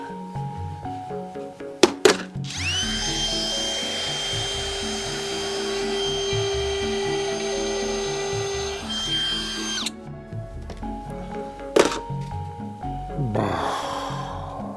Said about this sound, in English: then I started to drill the divots.